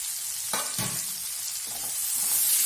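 Chopped onion and garlic frying in a pan with a constant bright sizzle, a few soft stirring scrapes partway through, close and moderately quiet.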